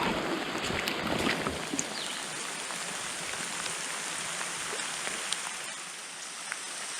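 Steady rain falls on a wooded mountain trail on the Quehanna Trail, a continuous close patter of drops with a few sharper individual splashes and no talking.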